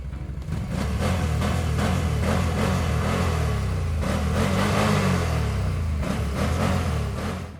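A Loncin X-Wolf 1000 ATV engine revs loud and close, rising and falling in several quick throttle bursts over a steady deep mechanical roar.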